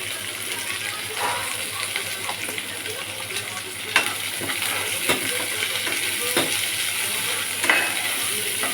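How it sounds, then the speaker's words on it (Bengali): Onion frying with panch phoron and asafoetida in hot oil gives a steady close sizzle, broken by occasional stirring scrapes and clinks and a few sharper pops. "পাঁচফোড়ন, হিং আর পেঁয়াজ ভাজা ভাজা করে নিলাম"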